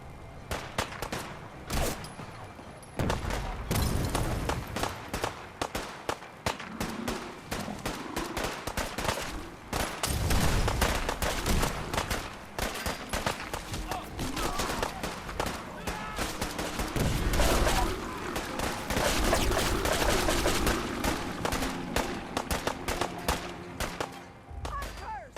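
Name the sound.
gunfire in Fallout 4 video game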